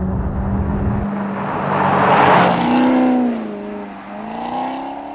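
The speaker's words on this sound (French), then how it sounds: "on comprend bien que c'est un moteur de base Ferrari. Là, ça vient chanter." Ferrari-based 4.7-litre V8 engine revving up, loud and close, its pitch sweeping up and down through a few throttle blips.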